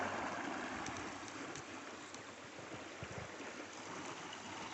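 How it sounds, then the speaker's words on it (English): Fast-flowing creek water rushes steadily and close by, a broad continuous wash with small splashes near someone wading in freezing March water. "I need to find a section where the water isn't flowing quite so fast."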